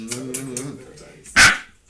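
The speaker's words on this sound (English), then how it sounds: "Stop barking." A single sharp dog bark close by, following a few seconds of a person speaking.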